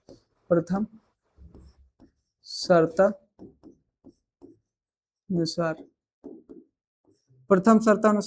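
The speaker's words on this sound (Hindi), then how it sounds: "अब यहां पर लिखते हैं प्रथम शर्तानुसार" Chalk or pen scratches out short strokes on a board during a Class 10 maths lesson on linear equations, faint and intermittent between bursts of a teacher's speech.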